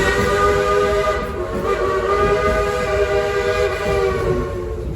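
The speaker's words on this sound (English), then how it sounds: "These whistles are just for you." The Frisco steam train at Silver Dollar City blows its whistle in a long, loud, steady chord that sounds continuously for the whole stretch over a rumbling train background.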